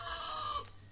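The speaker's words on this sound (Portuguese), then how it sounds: "Galo bem bonitão, gente." A rooster out in the brush near a family house gives a brief crow, fairly clear but set back at a moderate distance over faint outdoor background.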